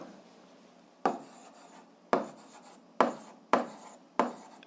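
An equation for a physics lever-balance problem being written down, a pen or chalk scratching in five short strokes about a second apart, each a sharp scrape fading quickly, with no voice.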